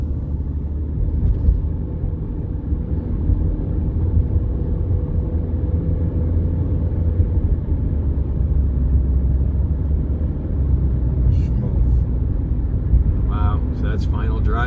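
A high-mileage Honda Civic with over 200,000 miles, fresh from an AMSOIL transmission fluid change, drives along with a steady, low engine and road rumble that holds even throughout, with light rattles near the end.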